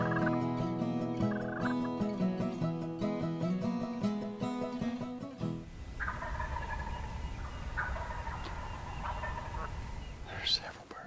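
Wild turkeys gobble in bursts, loud and layered at first, then a quieter, more distant gobble or two over soft outdoor ambience, on the opening morning of a youth turkey hunting season.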